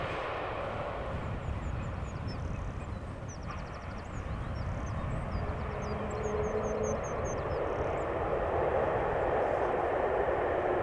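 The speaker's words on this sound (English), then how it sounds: "also some application of reverse thrust by the sound of it" A jet airliner landing at Amsterdam Schiphol Airport roars steadily in the distance with reverse thrust, a broad rushing engine noise that swells slightly toward the end, with faint birdsong above it.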